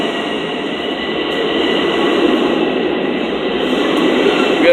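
A Long Island Rail Road commuter train on the Main Line at a station, with a loud, steady rumble of wheels and a faint high squeal building slightly over the span, heard up close with no talk.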